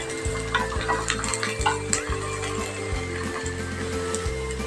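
Ground tomato masala hits fried onions in a pan, bursting into a loud sizzle with steady stirring and spoon scrapes against the metal over a low continuous hum.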